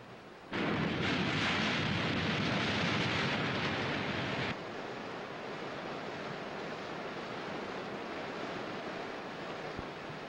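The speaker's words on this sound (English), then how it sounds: "There is a mudslide southward down the mountain right now." A mudslide pouring down a mountainside near a volcano, a loud, dense roaring rush that surges for about four seconds, then drops to a steadier, softer wash of churning noise.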